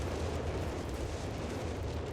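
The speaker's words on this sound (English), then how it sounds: "There's a lot of explosions going on in the back." Distant artillery explosions rumble in a Company of Heroes 3 battle on the Gothic Line map, a dense, low, continuous roar of blasts at moderate distance with no talk.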